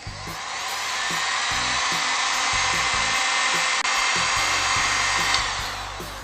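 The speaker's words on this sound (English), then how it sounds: "I'm going to slide my heat shrink tubing over it, hit it with a heat gun" Heat gun blowing on heat shrink tubing over a motorcycle wire connection: a steady, close, breathy fan roar that runs unbroken for several seconds.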